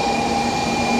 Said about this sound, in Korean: 3개 중에 어떤 열차가 나올지 궁금하군